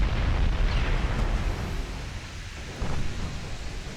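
Shells from a naval video game dreadnought battle slamming onto a ship's deck, heavy rumbling booms and a rolling explosive roar that thins out then returns with a lower, muffled blast.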